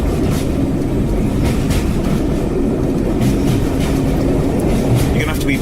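A heritage train on the Great Central Railway at Loughborough rumbles steadily past, close and loud, with continuous wheel and carriage noise and faint rhythmic clatter throughout.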